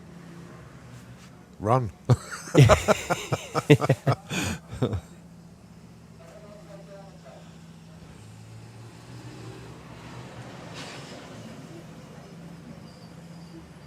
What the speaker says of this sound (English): Oh, that is the sound of race cars.